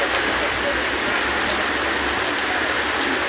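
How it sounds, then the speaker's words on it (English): Steady, loud rainfall in Dhaka, Bangladesh, a dense continuous hiss of drops hitting surfaces close by, with no break across the clip. "It's raining in Dhaka, Bangladesh."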